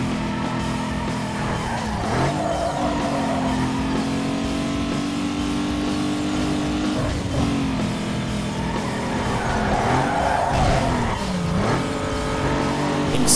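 Nissan 350Z drifting on a mountain road in Need for Speed Underground 2 with the handbrake pulled, engine droning steadily while tires squeal in repeated sweeping bursts, loud and close.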